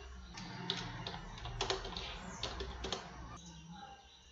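Fingers typing file content into a Python editor on a computer keyboard, a faint run of quick irregular key clicks over a quiet room hum, nearby but soft.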